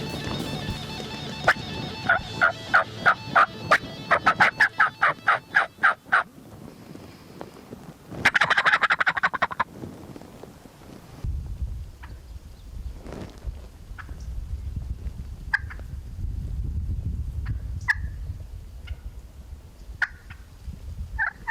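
Wild turkeys gobble in rapid rattling bursts in spring in Wisconsin, fairly close, then quieter calls and scattered clucks follow over soft outdoor background noise.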